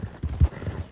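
Horse hooves clip-clop in Red Dead Redemption 2, an Arabian-like mount trotting in a quick irregular rhythm of soft low thuds, close and moderately loud.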